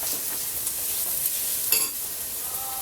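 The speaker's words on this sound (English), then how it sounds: "And then just mix this up together." Soft stirring of a ricotta and Parmesan stuffed-shell filling in a bowl, a faint wet scraping with one brief louder clink near the end, no talking.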